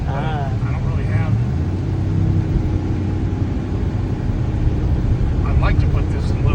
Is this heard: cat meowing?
no